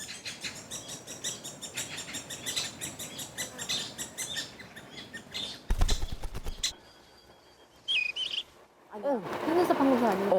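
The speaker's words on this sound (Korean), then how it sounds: "오색 딱따구리 소리도 났어요, 방금" Great spotted woodpecker and other birds calling in a May forest, bursts of chirps and calls with a loud rattling burst midway, then brief sharp calls and rising notes near the end, with quieter gaps between.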